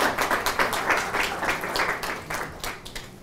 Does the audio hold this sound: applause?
yes